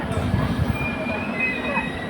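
A passenger train rumbles past alongside a stationary train stalled near a station, giving a steady close roar with thin metallic squeals running through it and faint voices in the background.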